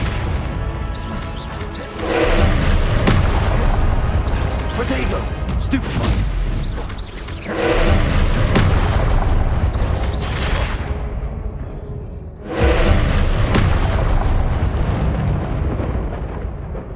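Confringo fire spells in Hogwarts Legacy burst one after another as three loud, roaring explosions, each a heavy blast that rumbles and crackles for several seconds before fading out.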